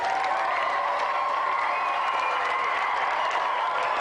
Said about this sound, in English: Round of applause for Christian